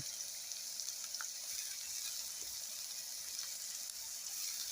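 Chopped onion frying in a pan over heat, a steady soft sizzle and hiss throughout with faint occasional ticks, low and fairly distant.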